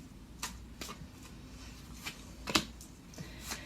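Tarot cards are shuffled and drawn, giving soft papery flicks and snaps at irregular intervals, close and fairly quiet with no talk.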